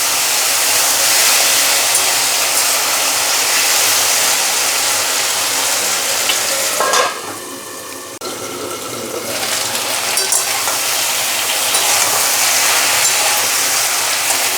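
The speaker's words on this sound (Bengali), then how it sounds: "একটু কচুটা ভাজা ভাজা করতে হবে" Taro (kochu) pieces frying in oil in a pan for a Bengali curry, a dense continuous hiss and sizzle that briefly dips midway before returning, steady and close, no speech.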